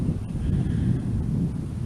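Strong wind blowing outdoors at a cattle panel greenhouse build site, a steady low roaring rumble buffeting the microphone throughout with no talk.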